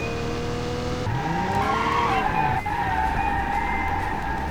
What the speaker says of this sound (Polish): ten silnik ma taki dźwięk jakby się do końca nie włączył